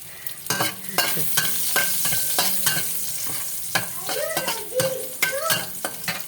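Sitaw, squash and eggplant sautéing in hot cooking oil, with steady sizzling broken by repeated stirring scrapes and clatters, close and fairly loud, no voices.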